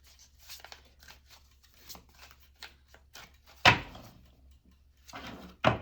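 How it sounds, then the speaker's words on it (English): Advice cards being shuffled by hand during a love reading, soft papery riffles and taps recurring irregularly, with a couple of louder sharper card snaps standing out, close and otherwise quiet. "I'm just trying to get a good shuffle on these advice cards."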